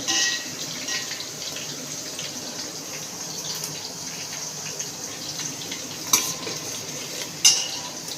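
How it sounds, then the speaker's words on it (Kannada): Onion and green chillies cooking in oil in a pan give a steady soft sizzle, with two sharp metallic clinks of a utensil against the pan near the end. "ಹಸಿಮೆಣ್ಸಿನ್ಕಾಯಿ ಎಣ್ಣೆಗೆ ಚೆನ್ನಾಗಿ ಬಾಡಿಸಿದ್ಮೇಲೆ ಈರುಳ್ಳಿ ಹಾಕಿದ್ದೀನಿ"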